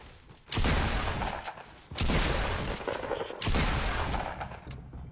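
Gunfire in Fortnite Battle Royale in three loud bursts, each a sharp onset decaying over about a second and a half, fired from a rooftop during a fight.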